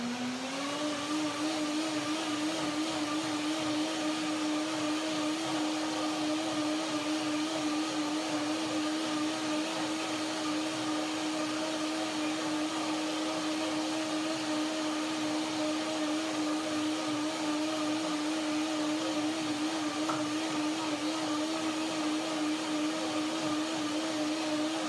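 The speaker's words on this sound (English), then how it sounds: "will blend first and decide later. One more blender dance." A blender runs steadily, whirring through a macadamia cream dressing for a pear and grape salad, its motor drone holding a constant pitch from start to finish with no talk over it.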